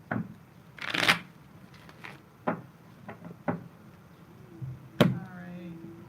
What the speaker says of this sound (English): Couple more shuffles and I'll get right into it.